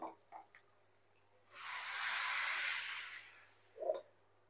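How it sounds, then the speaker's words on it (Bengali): Hot water is poured into a cooking pan of sautéed spiced ingredients for jackfruit and bhetki fish head curry. It gives a sharp, steady hiss for nearly two seconds, framed by a few faint clicks and clatters. "এখন আমি এর মধ্যে দিয়ে দিচ্ছি গরম জল।"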